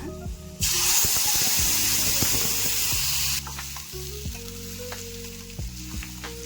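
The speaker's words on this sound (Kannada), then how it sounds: "ಒಂದು 10-15 ನಿಮಿಷ ಇದು ಫ್ರೈ ಆಗಕ್ಕೆ ಬಿಡೋಣ." Tomato chutney mixture tipped into hot tempering erupts in a loud, steady sizzle for about three seconds, then settles into softer frying with scattered clinks and scrapes of stirring close by.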